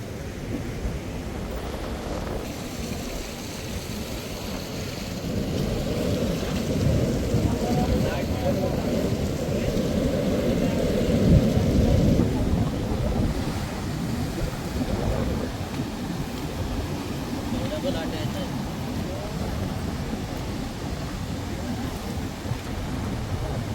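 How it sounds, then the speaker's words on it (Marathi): Strong sea waves crash onto the shore at Harihareshwar on the Konkan coast, producing a loud, continuous roar and wash of surf with wind buffeting throughout, swelling around the middle. "एवढ्या लाटा जोरात येत आहेत"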